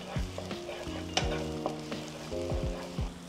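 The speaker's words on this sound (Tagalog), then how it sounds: "I-brown lang natin ng onte yung ating garlic and onion." Garlic and onion browning in a pan for beef pares, a quiet steady sizzle with repeated scraping stirs of a utensil against the pan, no talk.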